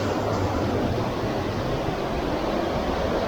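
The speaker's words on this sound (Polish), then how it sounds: "Woda po chodniku płynie." Water rushing and splashing steadily near the Marmore waterfall in Terni, where it streams over a wet footpath, a loud continuous broadband roar with no speech.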